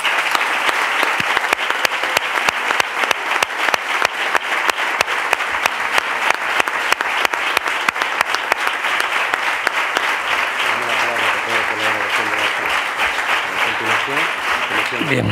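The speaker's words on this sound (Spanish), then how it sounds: "Les damos un aplauso a todos ellos," A council assembly gives sustained applause to the newly constituted municipal corporation at a town hall plenary session in Linares, a dense, continuous clapping that holds steady throughout at close range.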